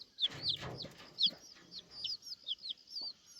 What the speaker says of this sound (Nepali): यहाँ पनि सानो चल्ला चाहिँ